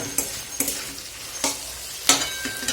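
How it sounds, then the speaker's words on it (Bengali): Chowmein noodles stirred in a hot frying pan for egg chicken chowmein, with a handful of sharp scraping clinks of the spatula over a low, steady sizzle, alone and close. "শুধু এবার চাউমিনটা দিয়ে একটু ভালো করে নাড়িয়ে নেবো।"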